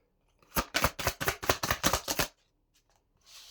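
Large, oversized oracle cards being shuffled by hand, a quick run of about eight crisp riffling bursts close up, followed by a short quiet stretch and a faint rustle at the end.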